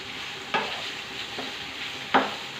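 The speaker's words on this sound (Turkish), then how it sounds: "5-6 tane patates kızartıyorum." Oil sizzles steadily in a pan of frying potatoes with a few sharp stirring scrapes; no talking.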